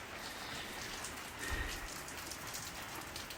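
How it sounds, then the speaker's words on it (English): Steady, heavy rain pours down in a continuous broadband hiss, with a brief low thump midway through and no voices. "still pouring rain"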